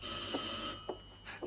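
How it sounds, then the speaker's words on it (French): An old telephone bell rings in a Hitchcock film scene, a steady electric ringing with faint room sounds and brief movements as the ring stops. "Ah, téléphone."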